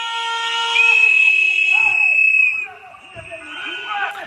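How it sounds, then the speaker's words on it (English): Loud, high-pitched whistles blow, one sustained shrill tone standing out over mixed crowd noise and other whistles. "Now, the first thing I'm noticing here are the whistle sounds."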